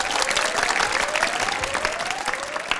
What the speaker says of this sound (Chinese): 宜晨篇，掌声鼓励。